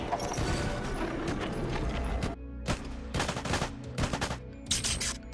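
Gunfire effects from the action video game Gungrave G.O.R.E, dense bursts of shots mixed with game music and loud effects, broken by brief pauses and sharp repeated blasts.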